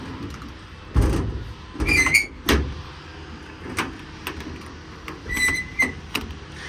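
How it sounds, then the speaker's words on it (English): Several drawers of a toolbox on a 2006 Ford F550 truck slide open and shut in turn, smooth rolling runs ending in soft knocks, with faint metallic squeaks between strokes. "But they slide, I mean, quiet, smooth. Really nice set of drawers overall."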